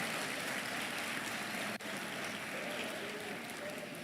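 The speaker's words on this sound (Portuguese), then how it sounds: "Uma salva de palmas, gente, por favor" An audience at a talk breaks into sustained applause, a steady wash of many hands clapping that fills the room at an even level with no pause.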